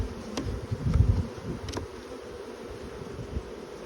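Honey bees swarm and buzz around an opened national hive, a strong colony, as a frame is set back in; a steady, close drone with a few soft wooden knocks early on and no voices.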